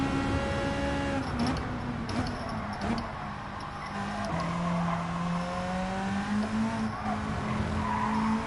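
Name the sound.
race car tyres skidding on cold tyres, Gran Turismo 7 video game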